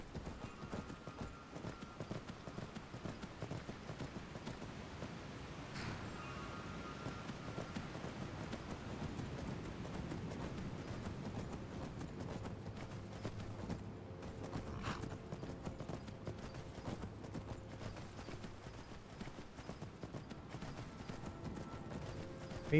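Horse hooves in Skyrim clip-clop in a steady, continuous rhythm under a soft rain-like wash and light wind, moderately loud and unbroken, with a brief whinny-like sound mid-way and no talk.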